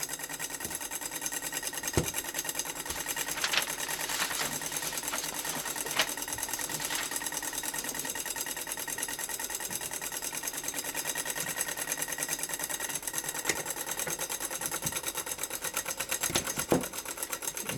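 A homemade magnetic pole flip motor running steadily, giving a fast, even mechanical whir and buzz with occasional clicks, close up and fairly quiet throughout.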